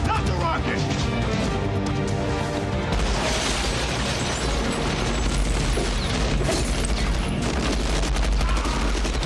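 Bursts of gunfire from an action scene in the 1996 film The Rock ring out amid crashes and dense mechanical clatter. A loud, continuous orchestral score plays underneath throughout.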